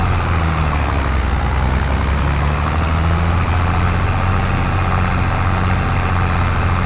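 Tractor pulling a plow in the video game Farming Simulator 22, a loud, steady engine drone under strain that continues without break, no talk.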